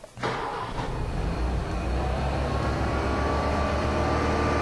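A classic Ford Mustang engine running partly on hydrogen mixed with gasoline fires up after a short crank and settles into a loud, steady idle rumble close by.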